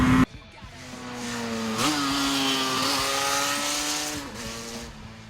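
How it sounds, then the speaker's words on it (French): A Yamaha 350 RDLC two-stroke motorcycle engine climbs past 6000 rpm into its power band, a loud, close, buzzing drone that rises and dips through several shifts in pitch, with no speech. "le moteur passe voilà, comme maintenant, les 6000 tours et que l'on rentre dans la zone de puissance"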